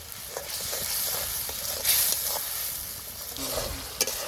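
Spice masala being stir-fried in oil in a village kitchen gives a steady close hiss and sizzle, punctuated by light scraping strokes of a stirring spoon, with no talking.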